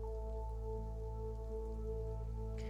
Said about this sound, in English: looking out at the rain pouring down